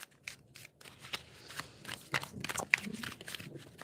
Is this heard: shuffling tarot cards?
yes